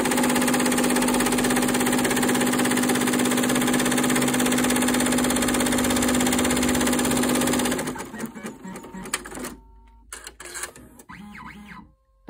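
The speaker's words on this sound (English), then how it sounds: "And it's gonna stitch out where we're gonna put the fabric first." Embroidery machine stitching out a bow design, a loud, steady rapid needle rattle and motor whir for about eight seconds, then stopping into scattered quieter clicks and handling noises.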